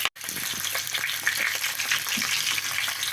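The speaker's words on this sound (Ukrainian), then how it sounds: "виклавлене наше м'ясо сковороду і будемо смазувати з усіх боків до румяної кірочки" Pork belly frying in a pan, a loud continuous sizzle and spatter heard up close, broken by a brief silence at the very start and a few soft scraping stirs.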